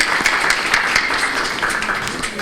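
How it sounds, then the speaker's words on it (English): An audience at an evening talk on lean thinking in health care gives a round of applause, dense rhythmic clapping at a steady level throughout. "a great big round of applause for Maggie"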